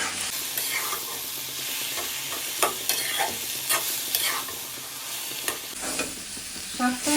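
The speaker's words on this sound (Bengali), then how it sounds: "শাকটা এখন ভেজে নেবো এইসব কিছুর সাথে" Continuous sizzling of mixed leafy greens frying in a hot pan, with repeated scraping and stirring strokes every second or so, close and fairly loud, with no voices.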